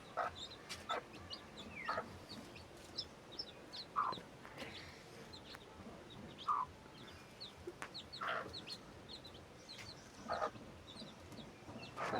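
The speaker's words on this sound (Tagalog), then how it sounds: "native na manok" Native chickens cluck softly in scattered, irregular bursts against a quiet outdoor background, a few sharper calls standing out now and then.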